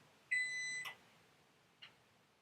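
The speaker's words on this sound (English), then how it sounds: "That beeping says that the oven's preheated." An oven chimes to signal it has finished preheating: one clear electronic beep held for about half a second, then a short faint blip, heard alone in a quiet kitchen.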